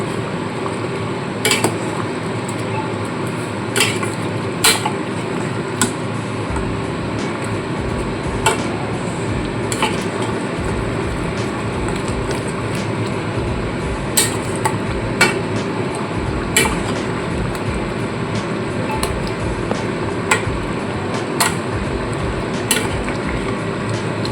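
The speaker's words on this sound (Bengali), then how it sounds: "কাজু বাদাম দেওয়ার পরে একটু নাড়াচাড়া করে নেবো" Cashew paste gets stirred into chicken malai curry in a pan, with a spoon scraping and repeatedly clinking against the metal in an irregular rhythm over a steady low cooking hiss.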